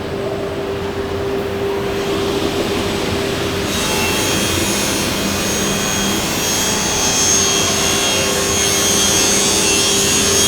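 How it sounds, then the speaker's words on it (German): A CNC saw trims and bevels the edge of a caravan panel in a Knaus Tabbert caravan factory. It gives a loud, steady grinding whine with no pauses, and the tone brightens a few seconds in. No one speaks. "In dem Fall holt er jetzt hier die Säge."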